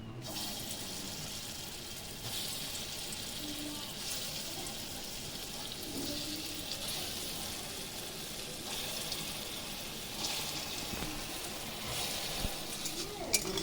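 Small lentil fritters made from matar dal frying in well-heated oil in a kadai, giving a steady, even crackling hiss throughout, with faint talk in the background.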